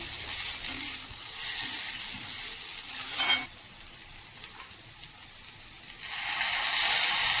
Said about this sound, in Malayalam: ടോഫും കൂടി ചേർത്ത് ഒന്ന് വഴറ്റിയതിന് ശേഷം